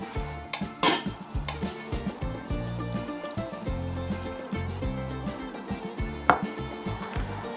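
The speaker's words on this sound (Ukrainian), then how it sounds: "Розрізаємо його на менші куски" Repeated knife chops on a board in an uneven rhythm as an octopus is cut into pieces, with a couple of sharper clinks of utensils, close by and moderately loud.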